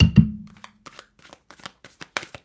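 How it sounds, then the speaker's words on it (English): A deck of tarot cards is shuffled in chunks, starting with a couple of firm riffles and then a string of light, quick card flicks and taps close by, with no voices. "when I shuffle them, it's in chunks"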